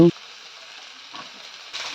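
Spices and pumpkin lumps sizzle faintly in a pan alongside chopped tomatoes, a soft steady hiss with a brief stirring scrape and a short burst of louder frying near the end.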